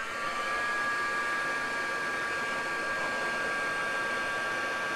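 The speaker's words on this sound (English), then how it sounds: "And then I will dry with a heat gun" A heat gun blows steadily and loudly throughout, drying glitter paint with a constant whooshing roar and a faint high whine.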